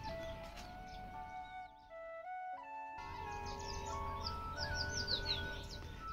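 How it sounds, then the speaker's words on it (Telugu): Sparrows chirp near Bhairavnath temple in Ukhimath village. A scatter of bright, quick tweets rises over sustained background tones, briefly drops out, then returns busier. "ఇదిగోండి ఇక్కడ పిచ్చుకలు"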